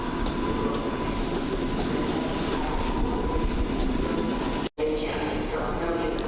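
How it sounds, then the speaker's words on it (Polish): An Impuls 2 fast urban railway train runs through Warszawa Zachodnia station, producing a steady, close rolling rumble with faint wheel clatter that cuts out briefly near the end. "kolejny impuls 2 szybkiej kolei miejskiej w Warszawie cały w klasycznej okleiny."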